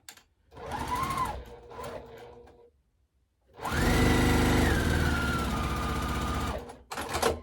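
A sewing machine stitches quilt layer-cake squares corner to corner for a Double Diamonds pattern, using a quarter-inch foot. Close whirring runs start and stop, with a short burst, a pause, then a longer steady run whose pitch drops as it slows.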